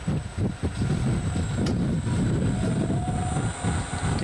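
A three-phase motor driven by a VFD runs in reverse, producing a loud, steady low rumbling drone with a faint whine, with no talking.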